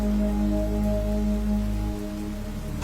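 Steady rain pours down in a village at night, a dense continuous patter over a low droning hum that drops away near the end; no voices.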